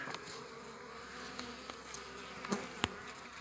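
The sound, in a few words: honeybees buzzing in opened hive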